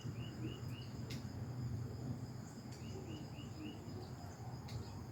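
A bird gives faint, quick drip-like calls in short runs of three or four, with steady insect trilling and a low hum throughout.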